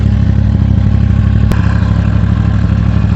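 A Vermeer CTX-160 compact track machine's engine runs steadily on its exhaust side, a loud, close, continuous mechanical drone with a brief sharp click midway and no voices.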